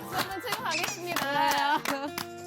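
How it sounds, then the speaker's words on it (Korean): A studio audience at a Christian talk show claps in a brisk, rhythmic burst, mixed with voices cheering and calling out over the top throughout. "박수는 지금 가겠습니다."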